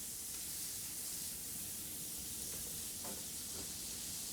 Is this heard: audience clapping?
no